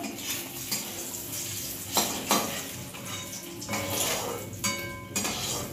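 Fried eggs being lifted one by one out of a pan in an egg curry kitchen, with clinks and scrapes of a utensil against cookware over a steady background hiss, several sharp knocks standing out.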